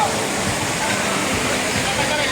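Water rushes loudly and steadily over the dam at Malibic Libic Falls on the river in Bailen, Cavite, a continuous close roar with a voice talking over it.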